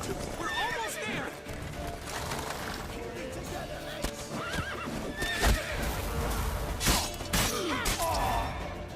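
Horses neighing and whinnying amid galloping hooves in The Witcher 3 video game, loud and close, with clattering effects and shouting voices throughout.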